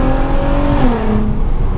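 A VW Golf R32 engine and exhaust heard from inside while driving, a loud steady engine drone with pitch sliding down as the revs drop, close and continuous.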